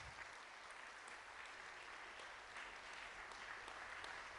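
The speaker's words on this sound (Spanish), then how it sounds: "Dale un fuerte aplauso a la presencia de Dios." Church congregation clapping together in a steady, continuous wash of applause, fairly faint and distant throughout.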